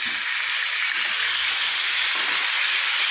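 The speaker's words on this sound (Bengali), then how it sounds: "এবার এই তেলেই দিয়ে দেবো ডুমো ডুমো করে কেটে রাখা আলু।" Diced potatoes sizzling in hot oil, a loud, dense hiss and crackle from start to finish with faint low clatter beneath, no voices.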